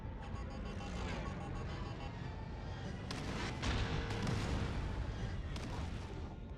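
Blaster fire and explosive blasts in Lego Star Wars: The Skywalker Saga form a dense, continuous barrage of booms and shots, loud and steady with a few sharper bursts, and no clear talk over it.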